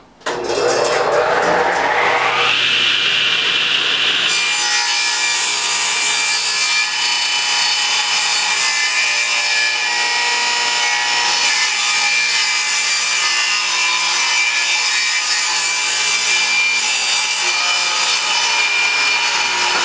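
Continuous, loud hand sawing through a wooden board for a workshop base cabinet, a steady rasping stroke that starts abruptly and runs unbroken for the whole stretch, with no talk over it.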